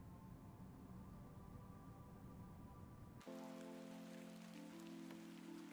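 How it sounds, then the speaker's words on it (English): Rain falls in the video game Excavation of Hobs Barrow, a steady close patter on surfaces that cuts abruptly into a brighter, sharper downpour mixed with low sustained musical tones. "Oh, it's raining now."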